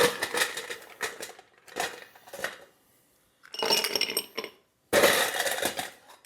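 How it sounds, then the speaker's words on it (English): Fresh ice cubes dropped into an old-fashioned glass for a cocktail, a series of loud clattering clinks in bursts with short pauses between scoops, close and clear without speech. "Lots of fresh ice."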